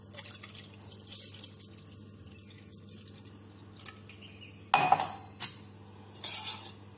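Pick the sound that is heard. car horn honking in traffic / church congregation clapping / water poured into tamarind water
water poured into tamarind water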